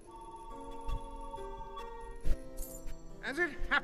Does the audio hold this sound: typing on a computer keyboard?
no